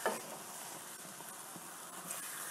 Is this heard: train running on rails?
no